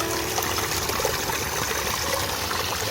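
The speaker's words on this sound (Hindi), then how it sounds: "आप देख सकते हैं कितनी स्पीड के साथ ये पानी आ रहा है" A natural mountain spring fed from ancient springs in an Azad Kashmir village gushes fast and steady, a dense, continuous rushing of water with no pauses and no voices.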